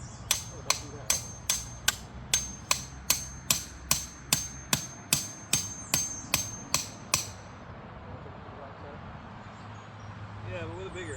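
A hammer strikes rebar outdoors in about sixteen sharp, ringing metallic blows at a steady pace, close and loud, then stops, leaving background noise and faint voices.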